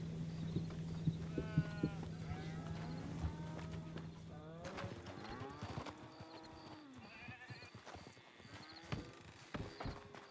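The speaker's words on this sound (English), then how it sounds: "Sure sound like sheep." Sheep bleating on a farm in the video game Red Dead Redemption 2, several wavering calls near and mid-distance over a low steady hum, with occasional clopping and other livestock noise.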